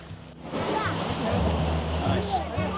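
Ocean surf surges and churns against rocks nearby at Thunder Hole, a sea inlet in Acadia, a loud rushing roar, with people talking faintly underneath.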